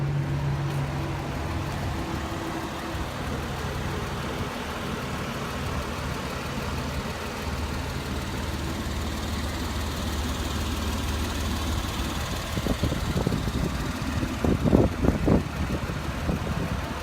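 A naturally aspirated 3.4-litre flat-six in a Porsche 911 Carrera idles with a steady low rumble close by, picking up a few uneven bursts near the end.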